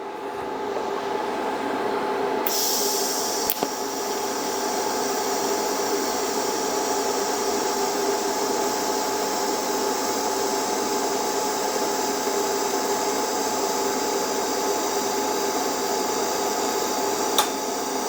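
TIG welding a butt joint with filler rod, heard as a steady, close electric buzz and hiss that carries on evenly for the whole stretch, with a sharper crackle as the arc settles early on and no talk over it.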